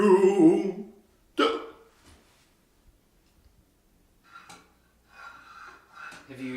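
Sharp, sudden hiccups come close and distinct with quiet pauses between them, mixed with bits of voice and breathy vocal sounds.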